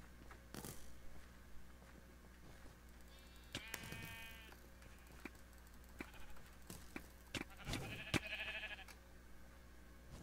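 Sheep in Minecraft's Mineplex Mixed Arcade bleating several times, short wavering cries scattered across the clip over faint game clicks and thumps.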